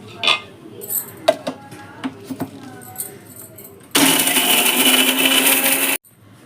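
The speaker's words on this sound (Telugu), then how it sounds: "మనం ఇప్పుడు వేయించుకున్న ఈ కొబ్బరి ముక్కలు మిక్సీ పట్టుకోవాలి" Kitchen clatter and light knocks give way to a loud, steady mixer grinder grinding roasted coconut pieces, whirring for about two seconds before cutting off abruptly.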